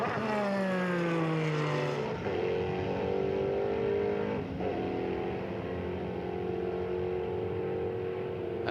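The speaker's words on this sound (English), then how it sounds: "whipping past that number 45 of the Flying Lizard car" A 2004 Porsche 996 race car in the American Le Mans Series GT class whips past on track, its loud engine note sweeping down in pitch as it passes close, then droning steadily away with no talk.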